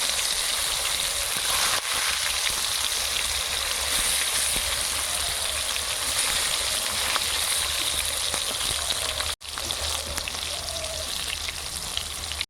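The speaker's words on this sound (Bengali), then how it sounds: "বেগুনগুলো এইভাবে ভেজে নেব" Eggplant pieces fry in a generous amount of oil, making a continuous, even sizzle and crackle that stays close and steady, with one brief break near the end.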